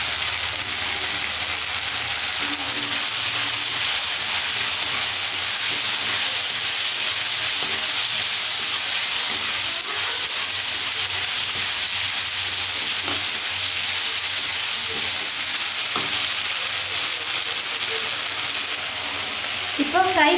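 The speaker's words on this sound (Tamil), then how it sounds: "அடுத்தது வினிகர் சேர்க்கிறேன்." A pan of chilli bread sauce with vinegar sizzles and fries steadily and loudly up close for the whole stretch, a continuous hiss with faint stirring scrapes beneath it.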